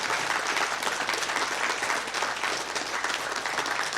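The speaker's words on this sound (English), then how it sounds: "Would you give the Lord one more hand clap this morning?" A church congregation claps loudly and continuously, a thick sustained round of hand clapping from many people filling the room without pause.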